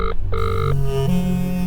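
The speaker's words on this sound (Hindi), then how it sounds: "ये फोन क्यों नहीं उठा रहे हैं?" A telephone rings with an electronic trilling tone, two bursts close and clear, then fades into a steady background of music and low hum.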